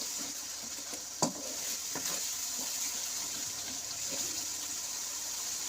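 Chicken tikka marinade mixture frying in a pan, giving a steady, gentle sizzle with light stirring and a single sharp clink early on.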